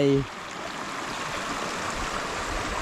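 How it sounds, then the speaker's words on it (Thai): Steady rushing water of a flowing stream, continuous and fairly close, after a brief tonal sound at the very start. "บรรยากาศสดๆน้ำไหล"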